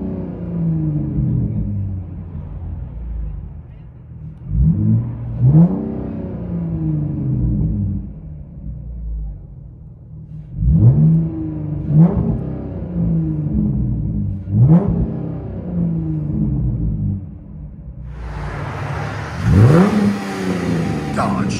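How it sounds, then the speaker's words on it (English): From inside the cabin, a 2008 Dodge Charger 3.5L V6 with a straight-piped true dual exhaust and X-pipe revs repeatedly, deep booming swells rising and falling, with a harsher, louder rev at the end. "Charger V6 true dual with an X-pipe."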